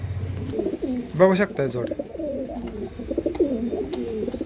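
Pigeons coo in soft, throaty repeated calls close by, with someone talking over them.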